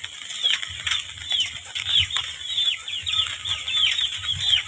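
Chickens and fighting roosters on a farm cluck and chatter as they come down to feed, a busy overlapping flock sound with soft rustling and occasional wing movement, steady and close throughout.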